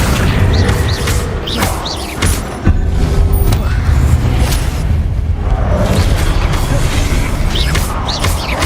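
Fire spell explosions cast inside a castle courtyard in the Hogwarts Legacy video game, a dense, loud stretch of booming blasts and whooshes with crackling debris, continuous throughout.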